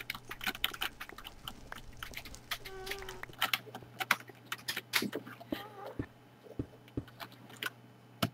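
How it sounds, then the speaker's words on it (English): A pet dog makes irregular clicking, chewing-like snaps and short noises close by, scattered unevenly over a low steady hum in a quiet room. "Ignore that noise in the background if you heard it, it's just my dog."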